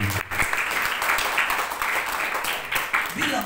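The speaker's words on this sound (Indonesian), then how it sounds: "Beri tepuk tangan." A church congregation applauding, a loud sustained roar of many hands clapping close by, with voices mixed in.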